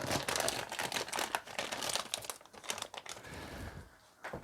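Crisp crinkling and crackling of plastic wrapping being peeled from a memory foam pocket spring mattress, in quick irregular bursts that fade near the end.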